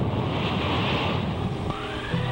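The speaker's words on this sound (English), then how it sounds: "The counterclockwise pinwheel winds turn gentle tides into frenzied breakers" Hurricane winds drive surf into crashing breakers, a dense, loud roar of wind and churning water that stays steady and unbroken for the whole moment.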